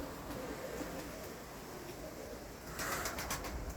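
Pigeons coo softly in a quiet loft, a faint low murmur of calls running throughout with a brief rustle of wings near the end.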